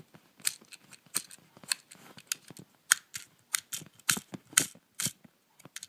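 Plastic fidget cube buttons clicking in a quick irregular series of sharp, close taps, some louder than others, with no talk over them.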